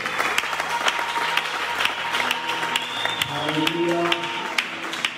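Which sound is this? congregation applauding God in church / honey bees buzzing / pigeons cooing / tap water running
congregation applauding God in church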